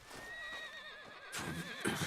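A horse in the Red Dead Redemption 2 video game gives a long, loud, quavering whinny, followed by a second snorting neigh and a few close hoof clops at the end.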